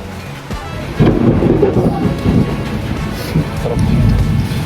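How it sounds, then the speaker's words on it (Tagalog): Heavy thunder rolls and rumbles loudly through a rainstorm, a deep sustained roar with steady rain hiss underneath, and a voice is faintly heard at moments. "Sumasabay yung alog sa kulog."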